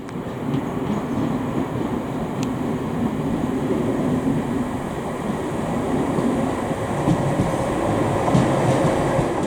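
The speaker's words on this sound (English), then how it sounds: "you'll be able to get a shot of two trains arriving side by side" A steady rumbling roar of two trains rolling side by side into Newton station, with a faint metallic squeal and clatter building slightly toward the end.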